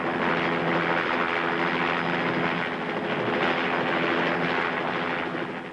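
A helicopter in the Andes mountains, a loud continuous rotor and engine roar held close and steady for several seconds with a low throbbing hum beneath, no voices.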